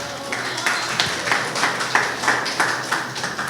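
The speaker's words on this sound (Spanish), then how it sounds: "Un aplauso para David," An audience claps for a volunteer called up during a Spanish-language church talk: a short burst of applause with a steady, rhythmic patter of hand claps, fairly close and even in loudness.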